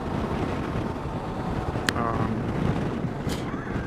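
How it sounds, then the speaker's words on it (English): Steady wind rushing across the microphone, a constant broadband roar with a couple of faint brief clicks, on a V-Strom 650 motorcycle ride. "Now it's windy."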